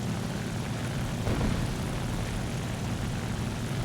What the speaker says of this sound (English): Now you see this plane is catching speed quite quickly and has a very good top speed in a dive.